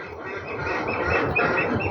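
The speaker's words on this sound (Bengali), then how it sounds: "হাঁসগুলো বের হয়ে খাবার খুঁজতেছে।" Domestic ducks out foraging for food give soft, close quacks and squawks in a short, busy burst.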